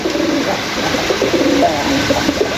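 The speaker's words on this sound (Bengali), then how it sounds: "এই মুহূর্তে দেখতে পাচ্ছেন আমাদের স্কিনের চকলেট মুখী কবুতর" Chocolate-faced pigeons, a pair offered for sale, coo in soft low repeated notes against a steady background hiss, with no voices present.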